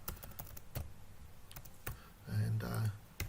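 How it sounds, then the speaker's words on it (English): Fingers typing numbers on a computer keyboard while entering data into a Lotus Improv spreadsheet, a quick run of faint key clicks followed by a slightly louder burst of tapping. "I can just type numbers just like you can on a normal spreadsheet"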